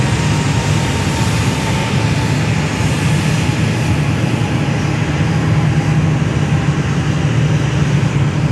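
An Airbus A340-500 airliner, a loud, unbroken jet roar that holds steady and close throughout, with no voices.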